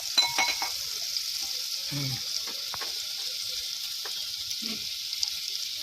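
Garlic fries in very hot oil for a village-style spicy chicken curry, a continuous bright sizzle with occasional crackles and a faint clink or two, steady and close, with no talking.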